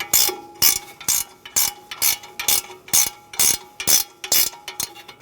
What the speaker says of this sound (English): Using a 13mm wrench, we're going to loosen our bolts for the caliper.